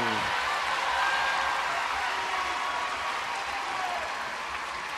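Spectators applaud and cheer at the 2021 US women's gymnastics championships. The clapping is a dense, steady wash of crowd noise that runs for the whole stretch without letting up.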